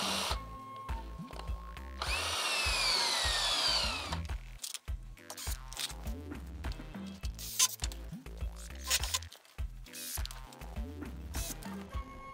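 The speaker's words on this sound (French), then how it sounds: "fixation en bas, une vis assez longue, 70 mm, une visseuse" Cordless screwdriver driving a long 70 mm screw into wood while fixing wall paneling battens, a brief whirring burst followed by scattered taps, knocks and handling noises, close and quiet without talking.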